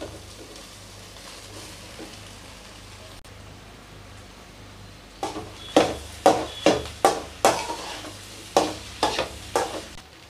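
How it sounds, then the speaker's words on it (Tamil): Cooked rice is stirred into scrambled egg frying in a pot for Tamil egg rice, with a quiet sizzle first and then a run of loud, rhythmic spoon scrapes and clanks close by. "இந்த மாதிரி ஒரு குண்டா நிறைய நம்ம சாதத்தை எடுத்து அதில் போட்டுக்கலாம்"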